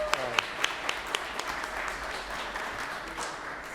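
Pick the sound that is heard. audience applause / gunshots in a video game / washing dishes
audience applause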